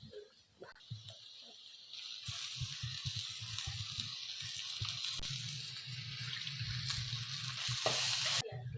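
Onions frying in a pan for pepper chicken gravy, a steady hissing sizzle that builds gradually, with occasional scraping and stirring knocks from a utensil.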